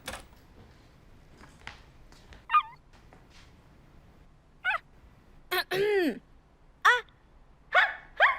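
A woman imitates a dog, giving short yelping barks and whimpering yips in several separate bursts, with quiet gaps between and brief speech nearby.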